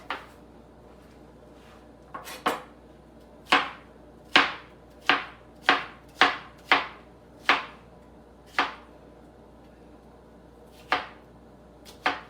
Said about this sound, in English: Cut that up into little cubes.